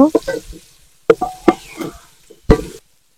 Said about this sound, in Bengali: পেঁয়াজ কুচি দিয়ে নিব, নেড়ে তারপর বাদামি করে নিব, নাড়তে থাকবো বাদামি হওয়া পর্যন্ত